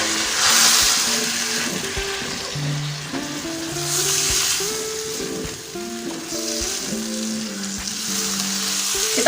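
Fish in a spiced sauce sizzles and simmers in a frying pan, a steady close hiss of frying with occasional stirring scrapes, and no talking over it.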